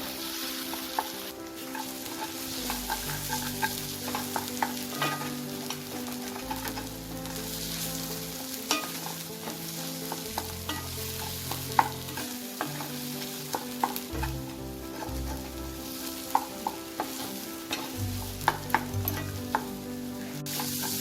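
Potato and pointed gourd fry in oil while being stirred, a steady soft sizzle with repeated scraping and clinking of a spatula against the pan at an uneven rhythm, and no one talking.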